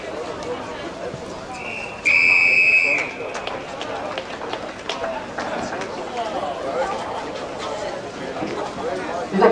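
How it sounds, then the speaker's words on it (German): A single sharp referee's whistle blast lasting about a second rings out at an outdoor athletics championship in Hamburg in 1990, over busy crowd murmur and a commentator's voice. "Dieser Pfiff war gleichzeitig der Aufruf für 3 Turnvorläufe 110 m."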